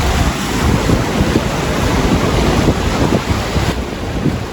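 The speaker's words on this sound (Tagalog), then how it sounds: "ang lakas ng alon" Strong ocean surf roars continuously at a lagoon resort in Bani, Pangasinan, with heavy wind buffeting the microphone, waves crashing steadily close by.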